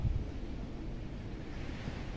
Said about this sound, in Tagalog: Tapos mahangin po.